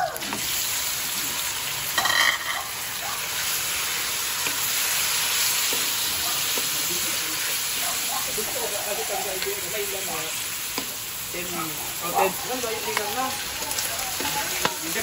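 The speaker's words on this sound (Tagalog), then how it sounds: "Lagay natin ang karne." Pork frying in a pan during lunch preparation for pork and beans, a steady close sizzle and hiss with occasional stirring clatter, while a voice talks quietly in the background.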